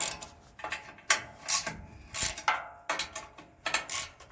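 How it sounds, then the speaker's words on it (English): Bolts on the chute guide of a Titan BX42 wood chipper being loosened with a wrench, a series of close, irregular metallic ratcheting clicks and scraping rubs in short bursts, with no talking. "So I'll just loosen up these bolts that hold that down."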